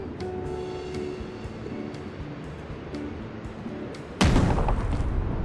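A cannon fires in the video game Gas Station Simulator, Tidal Wave DLC: one sudden loud boom near the end, cutting in over quieter game ambience with faint tonal sounds.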